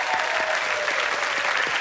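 A concert audience gives steady, dense applause for singer Ismail Harun, loud and continuous for a couple of seconds, with no talk over it.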